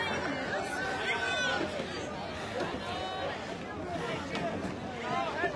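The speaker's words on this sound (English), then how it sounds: "This is probably the largest crowd that I've seen." Large outdoor crowd at the Chagrin Falls pumpkin roll, a steady babble of many voices with a nearby person talking over the murmur, moderately loud throughout.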